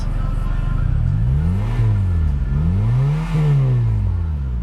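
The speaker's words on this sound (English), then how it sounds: "Revs up nicely, idles smoothly," A 2010 Mazda 6 i Touring engine revs up twice, rising and falling in pitch, over a steady idle rumble, close and loud.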